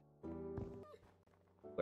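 A cat meows in a video game, two or three short, fairly loud meow calls with a brief gap between them, alone and without talk.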